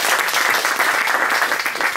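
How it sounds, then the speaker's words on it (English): A startup pitch event audience gives a big round of applause to presenters, loud close clapping from many hands with an uneven, lively patter throughout. "big round of applause for them."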